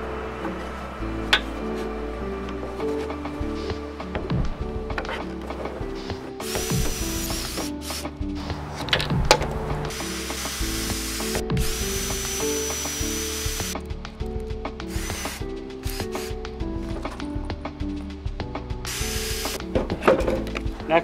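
A power drill driving screws into wood pieces held by corner clamps for a Christmas patio project, with repeated bursts of whirring and ratcheting, close and loud with no talk.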